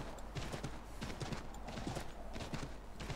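A horse gallops in the Assassin's Creed 3 video game, its rapid, rhythmic hoofbeats running close and steady throughout, with some faint speech mixed in.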